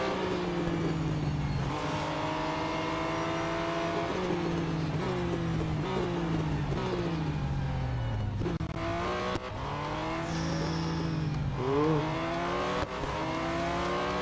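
Race cars in the Real Racing 3 game roar and rise through their gears, engine pitch climbing and dropping as they accelerate and shift, with brief tire squeal near the end and no talking.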